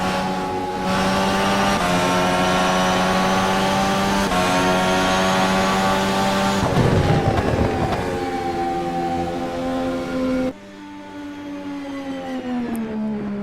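IndyCar race car at Phoenix, a loud high-pitched engine wail rising and then dropping in steps as it downshifts for the turns, near and continuous, briefly fading lower near the end.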